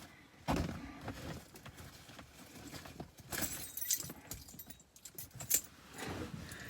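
Keys jangle in a few short bursts while someone gets ready to leave the house, close and fairly quiet, with handling clatter and rustling between the shakes.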